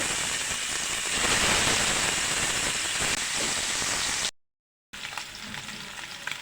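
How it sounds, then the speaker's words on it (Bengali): A strong, rain-like sizzle of rohu fish frying in oil fills most of the clip. After a brief break it returns somewhat quieter, with light crackling. "বন্ধুরা দেখুন আমি বাকি মাছটা ভেজে নেব"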